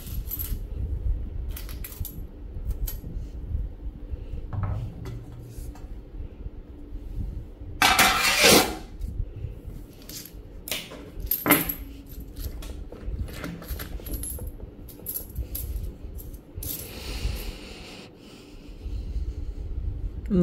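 Coins wiped clean after an ultrasonic cleaning bath, giving scattered metallic clinks and rubbing with a louder rattling clatter midway, close and fairly quiet.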